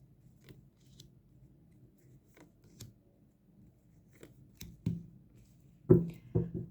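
Tarot cards being shuffled by hand, heard as soft scattered taps and flicks at first that build into a few louder riffling bursts near the end, close up in a quiet room.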